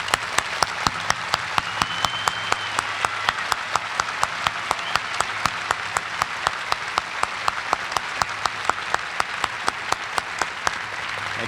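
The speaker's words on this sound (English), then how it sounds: "I would like them to stand and to accept the applause of the audience" Sustained applause from a commencement ceremony audience at the University of Wisconsin-Milwaukee, many hands clapping in a dense, even roar, with sharp periodic clicks cutting through at a regular rhythm for the whole stretch.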